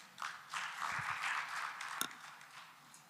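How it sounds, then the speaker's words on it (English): Applause from a conference audience at an obstetrics and gynecology scientific meeting, fairly faint and distant, a soft patter of clapping rising after a brief pause, with one sharper tap near the middle. "Let's give him a round of applause."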